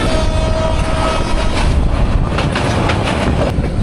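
Upokul Express train running from Laksam toward Noakhali, heard from on board as a loud, steady roar of wheels and carriage noise with faint clacking throughout.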